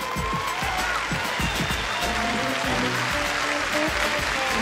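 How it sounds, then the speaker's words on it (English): Crowd applause at a combat match event, steady clapping mixed with low thuds and background music or noise throughout, moderately loud with no speech. "Let's give them a warm round of applause."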